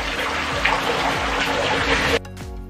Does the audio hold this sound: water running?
yes